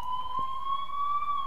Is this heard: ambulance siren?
yes